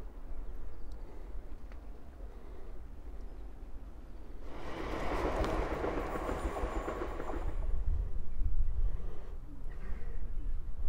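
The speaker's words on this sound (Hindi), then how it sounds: "और बिल्कुल पार्क के दरमियान में से ट्रेनें भी गुजरती हैं और ये ट्रैक है उसका।" A train passing along a track running through the middle of Handsworth Park in Birmingham, a steady broadband rumble that swells for a few seconds mid-clip over outdoor background noise, with no talking.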